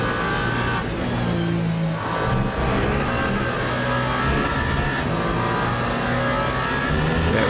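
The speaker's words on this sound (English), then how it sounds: "On board with the number 8 Toyota through the Porsche curves." Onboard engine note of the number 8 Toyota prototype race car in Le Mans Ultimate through the Porsche curves, a loud continuous high-revving drone with shifting pitch and no pauses.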